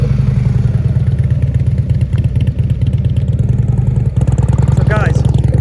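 A motorcycle engine runs steadily at low speed during slow-speed riding practice on a cone course, with a deep continuous rumble throughout and a brief throttle blip near the end while people talk over it.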